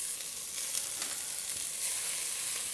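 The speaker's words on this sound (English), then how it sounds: "Now in a pot, we're going to add a little bit of butter. And we're going to cook some onions and garlic." Onions and garlic sizzle steadily in melted butter in a pot, a continuous close, even frying hiss with faint stirring and no voices.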